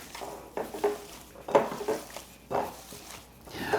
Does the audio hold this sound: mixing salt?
yes